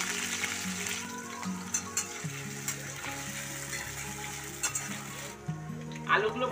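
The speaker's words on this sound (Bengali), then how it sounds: "এবার তেলের মধ্যে দিয়ে এগুলো ভেজে নেব" Two medium potatoes, diced, frying in mustard oil in a wok, a steady crackling sizzle that runs the whole time beneath a soft tonal backing, with a few brief sharper pops.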